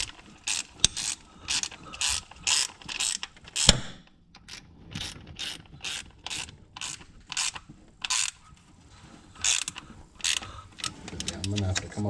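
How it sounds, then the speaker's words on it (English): Ratchet snugging the cylinder head bolts on a 2004 Ford Escape 3.0 engine, with quick bursts of close, sharp clicking strokes repeated in a steady rhythm and brief pauses between bolts. "Run our bolts in. These torque to 18 foot-pounds. I'm going to get them snug here."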